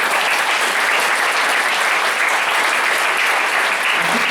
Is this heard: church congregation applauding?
yes